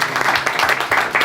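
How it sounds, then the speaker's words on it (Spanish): Audience applause at a comic book launch in the Galería Plop gallery, a short, dense burst of clapping heard up close and fairly loud, with no one speaking over it. "Un aplauso para Vicente."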